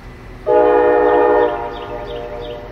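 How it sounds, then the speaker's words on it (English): A freight train horn at Cordele, Georgia blares in one sustained chordal blast of about a second, then fades into a lingering echo reflected off nearby buildings, with no talk over it. "Listen closely to this horn. At first, I thought it was another train out there somewhere."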